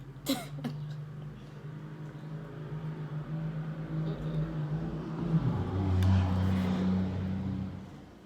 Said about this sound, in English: That car was rude.